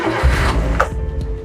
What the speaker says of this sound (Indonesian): Oke, mesin nyala, halus, masih oke.